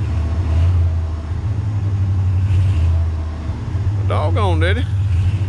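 A 1968 Ford F100 pickup's engine revs steadily and loudly with its transmission failing to engage, a low rumbling drone throughout while someone talks briefly over it.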